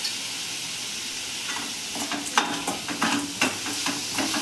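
Vegetables stir-fried for a rava dosa batter, sizzling steadily in a hot pan while a spoon scrapes and stirs in irregular bursts, close and moderately loud with no talking.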